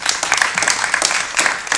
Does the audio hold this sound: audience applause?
yes